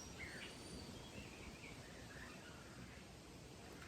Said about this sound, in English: serenading that starts up with our birds that are also calling you in to just be present